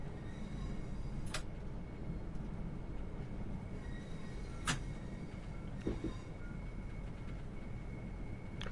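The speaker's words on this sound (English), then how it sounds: "I can hear all the rattling as well" Steady rumble and rattle of a Class 465 electric train on the Southeastern line over the River Medway in Train Sim World 2, interrupted by a few sharp metallic clanks and a brief wheel squeal, with no talking.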